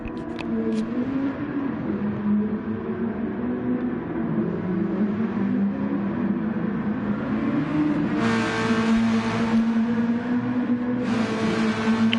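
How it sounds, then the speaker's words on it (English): Race cars at the Red Bull Ring brake hard into turn 3, with loud, sustained engine notes that fall and rise as the cars slow and power away. Bursts of higher engine roar appear near the end. "Down towards turn 3. Heavy braking here."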